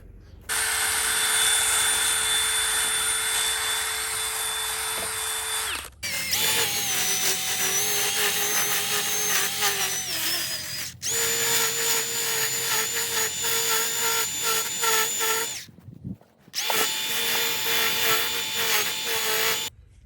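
A drill fitted with a long sanding mandrel works a wooden carving in long, continuous bursts of high whining and abrasive rubbing, loud and close, with short pauses between passes and no talking.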